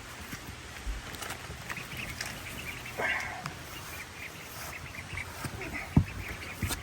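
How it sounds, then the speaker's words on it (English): Khaki Campbell ducklings quack faintly at close range, with a few brief calls over low background noise and one sharper call near the end. "So I went and bought Saundra some khaki Campbell ducklings."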